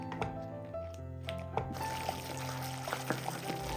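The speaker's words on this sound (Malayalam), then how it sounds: "നെയ്യും വെളിച്ചെണ്ണയും കൂടെ ചേർത്ത് കൊടുക്കാം." Ghee and coconut oil poured into a cooking pan for a tomato snack, a steady liquid pour with soft splashes and a few bumps from the pan, no voices.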